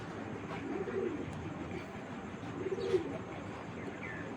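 Pigeons coo at a pigeon farm, low soft murmuring coos repeating a couple of times over steady background hum, fairly faint and with no voices.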